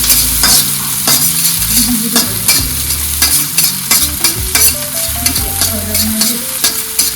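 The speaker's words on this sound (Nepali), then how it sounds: "प्याज हालेर मजाले भुट्नुहोस्।" Onions and cumin fry in a pan while a utensil stirs them, giving a continuous close sizzle broken by repeated scraping and clanking strokes.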